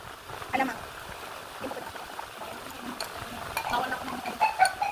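Tomato being stirred together with shrimp paste (alamang) in a bowl, giving soft, moist clicking and scraping in irregular bursts at close range, with light background noise.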